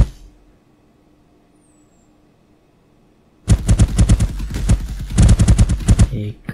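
AI enemy gunfire in an Unreal Engine 5 shooter game: after a few seconds of near silence, loud sustained rapid bursts of automatic fire erupt and continue to the end.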